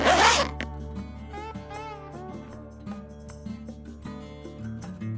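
A single fast zipper pull rasps loudly right at the start, then gives way to soft background music with light plucked notes.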